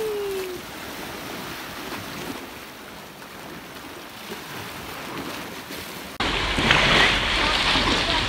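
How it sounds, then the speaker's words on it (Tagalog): Strong ocean waves at a shoreline during a crystal kayak outing, heard as a steady wash of surf and wind noise with some talk, then a sudden loud burst of crashing water near the end. "Lakas ng alon"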